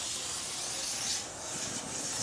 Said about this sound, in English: spray some chain cleaner on there